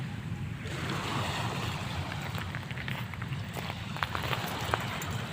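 Ocean waves washing onto the shore at Tinaclipan beach in Milagros, Masbate, a steady low surf rumble with soft hissing wash and a few faint clicks, no voices.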